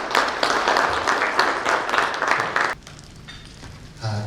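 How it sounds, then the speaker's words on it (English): A crowd at an engineering, iron and steel industry event applauds with dense, steady clapping for a few seconds, then it drops off abruptly, leaving quieter room noise. "Ladies and gentlemen, a round of applause."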